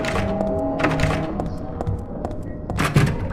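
A locked door in the Silent Hill video game rattles and thunks as its broken lock is tried, several dull knocks over an ambient game background, loudest near the end.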